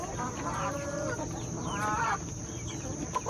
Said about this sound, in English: All my baby chicks, all my teenage chickens, all my grown chickens are in one big flock over here at my main coop.